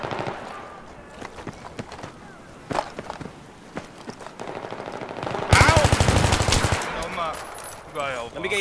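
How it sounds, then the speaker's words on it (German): Video game gunfire during a competitive online league match: scattered single shots and short bursts, then a dense, loud automatic burst near the middle lasting over a second, with a voice talking at times. "Auf mich wird geschossen"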